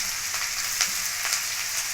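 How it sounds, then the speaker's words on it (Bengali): Chopped green chilli, ginger and garlic frying in hot oil, a constant bright hissing sizzle with a few faint pops, close and steady throughout with no voices. "তেলটা আমার গরম হয়ে গেছে। এখন আমি এখানে দিয়ে দেব লঙ্কা কুচি, আদা কুচি,"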